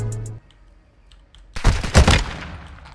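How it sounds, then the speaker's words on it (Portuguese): Gunfire in the video game Warzone 2 erupts suddenly after a short faint tone and a near-silent pause. A loud, rapid burst of shots with booming reports follows and fades into a decaying rumble. "Ah, é tiro, é?"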